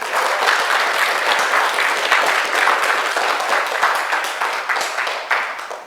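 A congregation at a bilingual church worship service claps in sustained, dense applause, loud and even throughout before tapering at the end.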